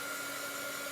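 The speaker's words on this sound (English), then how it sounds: "You could do this very easily with a hairdryer." A hair dryer blows steadily over a freshly painted watercolor background, a continuous close, even whir with no pauses across the moment.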